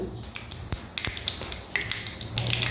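Mustard seeds, with urad dal, sputter and pop in hot coconut oil during tempering, giving sharp irregular crackles and snaps over a low frying hiss, close and fairly loud, no voices.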